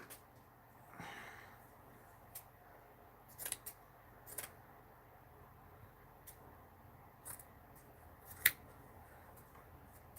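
Scissors cut paper in a quiet room, giving several faint, crisp snips spaced irregularly and heard alone.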